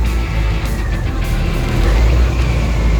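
A 1968 vehicle's engine idles close by, a steady low rumble with faint rattles and clicks over it, holding even for a few seconds.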